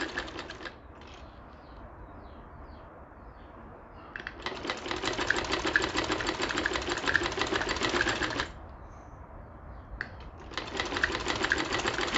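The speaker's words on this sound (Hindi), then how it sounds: "इस तरह से पूरी स्टिचिंग हमें करनी है।" Sewing machine stitching fabric for a gala design, a rapid steady mechanical clatter running in two long bursts with a quieter low hum between them, no voices.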